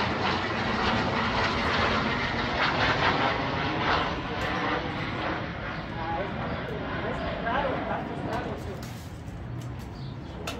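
A NetJet business jet arriving from Milwaukee passes directly overhead as a broad, loud engine roar that swells and slowly fades over several seconds, with birds faintly audible and voices around.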